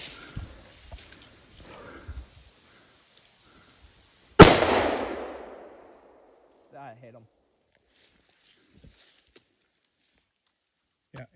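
A single loud rifle shot fired at a moose during a hunt near Orrville, Ontario, a sharp crack followed by a rolling echo that fades over about two seconds, with quiet voices before and after.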